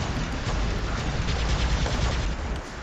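Sustained automatic gunfire in a shooter video game, a thick unbroken rattle of rapid shots with booming low rumble beneath, steady and loud throughout, no voices.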